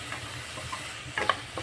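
Vegetables sautéing in oil in a pan for hyma kuzhambu curry, a soft steady sizzle with a few brief stirring scrapes and spatters near the end, heard up close without talk.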